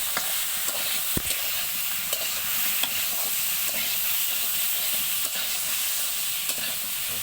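Chili powder and spices sizzle steadily in a pan of egg, potato and cauliflower curry, with scattered scrapes and clinks as a spoon stirs them through; no voices.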